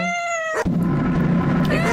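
Meowing from a cat sound effect in a pixel-art RPG Maker MZ animation, two short harmonic cat cries, one at the start and one at the end, with a thump and a rushing rain-like wash between them.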